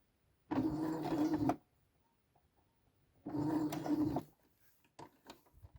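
A sewing machine stitches a label onto a garment in two short, even bursts of about a second each, separated by a quiet pause, with faint handling clicks afterward.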